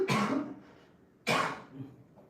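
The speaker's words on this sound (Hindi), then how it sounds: "खांसी है" A man gives two hoarse coughs, close to the microphone, about a second apart, during a live broadcast.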